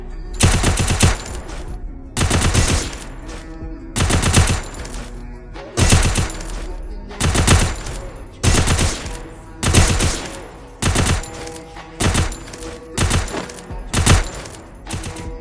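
UMP submachine gun fire in the Free Fire mobile game comes in loud, repeated bursts of rapid shots separated by short pauses, evenly spaced throughout.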